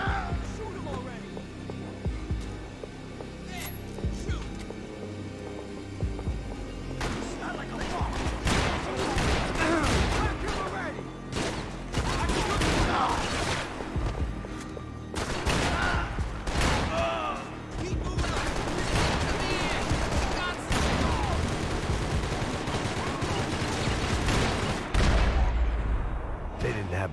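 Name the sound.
gunfire in a video game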